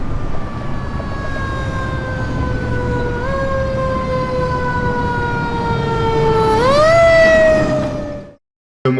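A loud wailing ambulance siren with a steady tone that sweeps sharply upward near the end, then cuts off abruptly.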